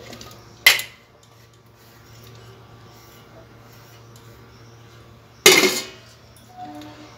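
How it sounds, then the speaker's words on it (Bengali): Potatoes for boiling tumble into a metal pressure cooker in a home kitchen: two sharp clattering bursts several seconds apart, the second longer, with a faint low hum underneath and no talking. "কুকারের মধ্যে নিয়ে নিচ্ছি।"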